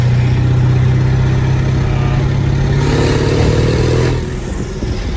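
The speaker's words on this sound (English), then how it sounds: "you can hear the turbo and everything, sounds pretty nice" A 600 HP 7.3 Powerstroke diesel truck cruises down the road in light throttle, its engine giving a loud, steady drone with a faint turbo whistle on top, then dropping off sharply near the end.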